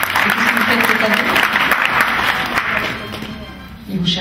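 Audience applause congratulating a new graduate at an apprenticeship event: steady clapping from a crowd filling the room, thinning toward the end, with a voice speaking over it.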